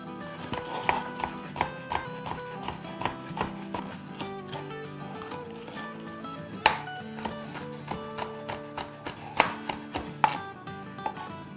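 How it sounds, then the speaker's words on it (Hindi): A knife chops green chillies on a cutting board in quick runs of crisp, close knocks, with brief pauses between bursts and no voices. "अब हम अपनी हरी मिर्च काट लेते हैं।"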